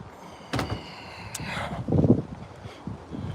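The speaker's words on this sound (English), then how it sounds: "Let me shut this door" A door in a sculpting workshop is handled with a couple of sharp knocks and clatters, then shut with a dull thud, moderately close in a quiet room.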